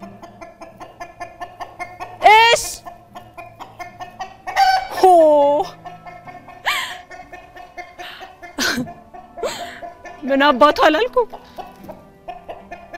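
Chicken-like clucks and rising squawks come in several loud bursts on stage during a theatre play, alternating with spoken lines and quieter gaps.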